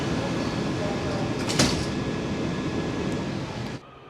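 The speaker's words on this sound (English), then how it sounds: "Step back. Doors closing." Doors of a Kawasaki-built WMATA Metrorail 7000 series Silver Line train closing amid steady, loud car noise, with a brief burst near the middle and the sound cutting off abruptly at the end.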